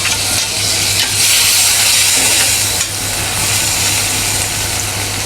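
Chopped tomatoes go into a hot frying pan for pav bhaji, setting off a loud, continuous sizzle and crackle over a low steady hum, close and without speech.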